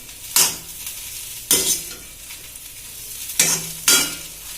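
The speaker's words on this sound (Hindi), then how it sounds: "हल्के हाथों से चलाएंगे जब तक ये हल्का सा और न हो जाए" Poha sizzles gently in a pan while a spoon stirs it, giving four sharp scraping clatters spaced unevenly over a soft continuous fry.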